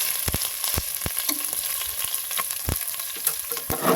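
Biryani ingredients fry with ginger and garlic paste in a village home kitchen, a close, crackling sizzle punctuated by repeated sharp spatula taps and stirring knocks, with no voices.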